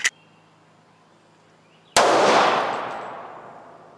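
A single .45 ACP pistol shot firing a cast 230 grain bullet at a test rig, one loud sharp crack after near silence, followed by a long decaying echo, preceded by a faint click.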